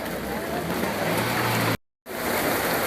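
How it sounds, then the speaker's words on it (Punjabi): Heavy rain pouring on protesters holding umbrellas, a dense, loud, continuous wash of noise that cuts out briefly to silence before resuming. "ਅੱਜ ਮੀਂਹ ਇੰਨਾ ਜ਼ਿਆਦਾ ਹੈ ਔਰ ਤੁਸੀਂ ਮੀਂਹ ਤੇ ਭਿੱਜਦੇ ਐਜੀਟੇਸ਼ਨ ਕਰ ਰਹੇ ਹੋ"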